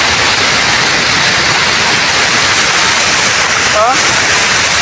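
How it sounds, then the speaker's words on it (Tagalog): Floodwater pours down loudly during a storm, a dense continuous roar of falling water filling the whole stretch, with a brief voice rising faintly through it near the end. "sobrang lakas ng bagsak ng tubig"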